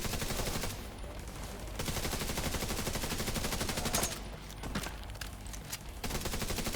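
Gunfire in a shooting video game: repeated bursts of rapid shots, fairly close and loud, with brief pauses between volleys.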